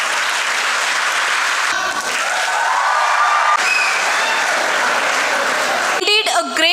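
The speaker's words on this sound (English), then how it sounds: "that is happy noise with the clap" An audience claps at a college award ceremony: dense, sustained applause from a large crowd fills the hall, with voices rising briefly near the end.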